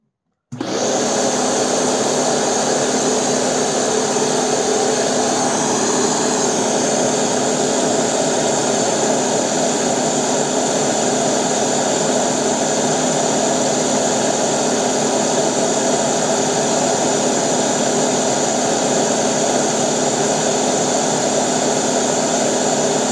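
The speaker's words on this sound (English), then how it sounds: "Let's see how fast the brush roll spins." A Kenmore Elite 31150 vacuum cleaner runs with its brush roll spinning, a loud, steady whine with a constant hum that holds from start to end without a break.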